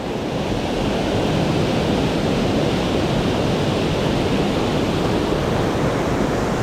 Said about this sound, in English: Water's running good today.